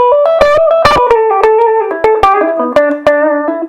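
A distorted electric guitar plays a short run of sustained notes with sharp picked attacks, gritty and buzzy through a small Sonicake Sprint amp.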